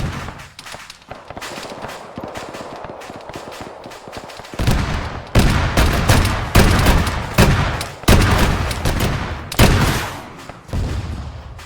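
Heavy gunfire from an armed vehicle engaging a BTR in Arma 3, rapid crackling shots at first, then a series of loud, booming bursts roughly every second, close and forceful.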